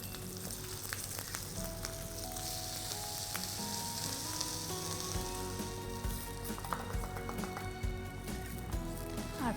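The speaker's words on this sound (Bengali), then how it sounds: "দেব আর একটু জিরে, একটা কাঁচা লঙ্কা, আর এটা ভালো করে মিশিয়ে নিয়ে এটার মধ্যে ঢেলে দেব" A tempering of cumin and green chili in hot ghee is poured into Bengali-style khichuri, setting off a loud, steady sizzle and crackle that fills the whole stretch with no talking.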